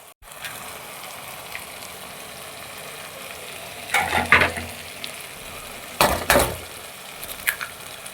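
Fried masala with eggs for mutton brain kheema is stirred in a pan under a constant sizzle, with a few louder scraping and clattering bursts of the spoon against the pan, close, and no talk.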